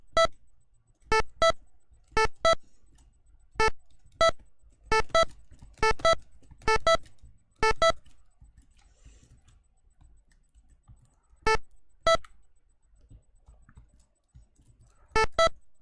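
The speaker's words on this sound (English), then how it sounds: "I'm jumping and my double jump noise overlaps my regular jump noise" Synthesized jump sound effects from a programmed game in the style of Atari 2600 audio, a double-jump tone overlapping the regular jump; short sharp blips come in irregular bursts, some paired, with gaps of silence between them.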